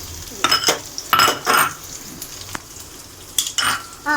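Onions and crab curry ingredients being lightly sautéed in a pan, with short clattering bursts of a utensil scraping and stirring against the metal over a soft, steady sizzle.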